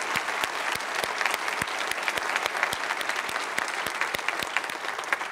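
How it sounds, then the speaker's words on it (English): Audience at a lecture on the history of the African American West claps steadily for about five seconds, a dense, even round of applause with no voices over it. "I think he deserves a round of applause"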